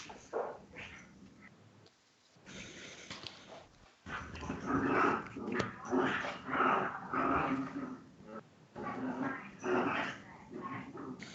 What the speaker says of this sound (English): Can you hear my dogs going crazy in the background?